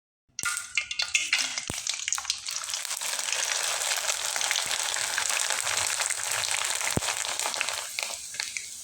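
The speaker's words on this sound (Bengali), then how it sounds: "চিপসগুলো দেখতেই পারছেন তেলে দেওয়ার সাথে ফুলে কিন্তু ডবল হয়ে যাচ্ছে" Gram flour chips drop into hot oil with a sudden loud burst of sizzling. The steady, close frying hiss and crackle that follows holds strong and fades slightly near the end.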